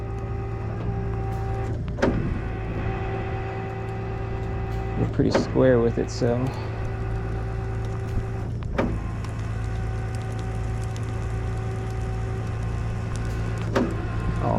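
An electric winch hauls a BMW up a bank, a steady mechanical whine droning on under the speech, with clanks and rattles partway through.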